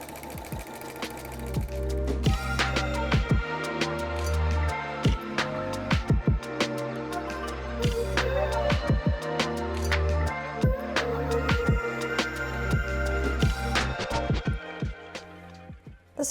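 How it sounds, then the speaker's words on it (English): Sewing machine running a serpentine stitch on fabric, a steady close mechanical hum with fast rhythmic needle clatter that carries on alone and without pause. "I'm going to start stitching."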